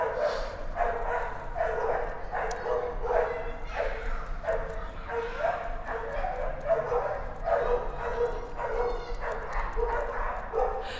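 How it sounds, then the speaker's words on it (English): Two dogs, one on a patio and one on a road, bark and yip back and forth continuously, some distance away, with an excited, slightly whiny edge to the barking. "there's like a dog on a patio and a dog on a road, and they're like barking at each other"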